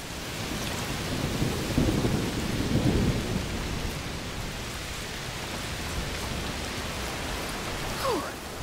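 Steady heavy rain pours during a thunderstorm in the game A Plague Tale: Requiem, with low rolling thunder swelling early and a dense, continuous hiss of rainfall throughout, no voices.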